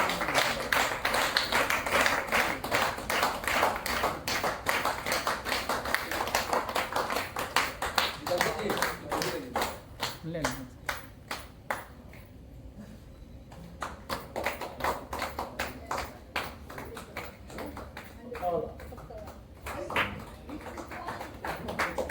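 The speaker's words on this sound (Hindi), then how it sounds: "इन लोगों के लिए ताली पूरी दिल से बजाओ आप।" Hands clapping and tapping at a motivational business seminar in India, dense claps through most of the stretch, thinning briefly near the middle before picking up again.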